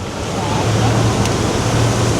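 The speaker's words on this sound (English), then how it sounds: "The water's ripping today." Fast-flowing Feather River water rushes around a fishing boat during a salmon opener, a loud continuous broadband roar with a low rumble underneath, close and steady throughout.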